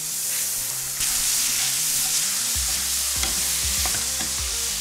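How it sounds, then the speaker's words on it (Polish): Half a kilo of ground beef frying in a pan, a loud, dense sizzle that swells as the meat lands, with scattered knocks and scrapes of stirring, close and without voices. "Teraz na moją patelnię wjeżdża pół kilo mięsa"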